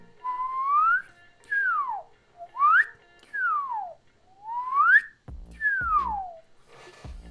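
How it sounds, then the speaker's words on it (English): A person whistles by blowing out, a series of sliding notes, some rising and some falling, with short gaps between them and a few soft thumps near the end. "I blow out to whistle."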